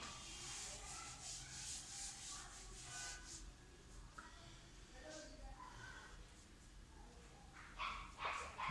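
Rubbing and wiping on a board to erase writing during a probability lesson, a soft continuous scrubbing texture with repeated strokes, fairly faint and close.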